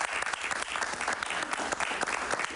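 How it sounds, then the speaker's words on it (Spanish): Studio audience applause on a Spanish-language television show, dense and steady throughout, loud and close with no talk over it. "Un aplauso para Pavel Núñez, por favor"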